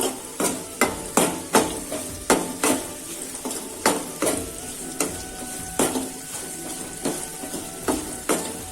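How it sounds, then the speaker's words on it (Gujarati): Stuffed gunda berries are stirred in hot oil with turmeric: a spoon scrapes and knocks against the pan in regular strokes about every half second over a continuous sizzle, close up with no voices. "આ રીતના આપણે એક સાઈડ તેલ માં નાખશું ગુંદા એક સાઈડ કરીને એટલે ગુંદાની અંદર ભરાય હળદર પછી આ રીતના બધું મિક્સ કરી દેશું"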